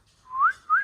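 A person whistles two short rising notes, the second briefly after the first, clear and close against a quiet background while a patch is about to be welded.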